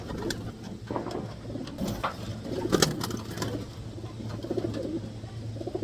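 Pigeons or doves coo repeatedly outdoors, their low soft calls layered over steady background noise and occasional sharper bird sounds, with no talk.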